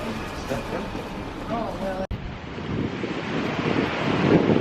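Wind and surf at Bronte Beach in Sydney: gusts buffet the microphone over a continuous, rumbling wash of breaking waves, with a brief voice early and the surf swelling louder toward the end.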